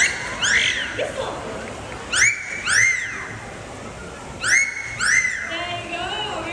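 A parrot at a Jurong Bird Park live show imitates a human whistle, giving several rising-and-falling whistled phrases in pairs, clear and close, with a presenter's voice faintly in the background.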